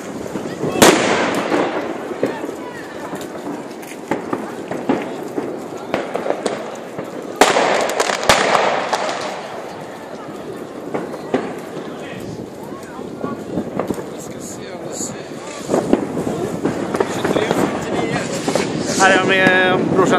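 New Year's fireworks bang and crackle around Blackeberg in Bromma at midnight, with repeated irregular booms near and far over about twenty seconds while people talk.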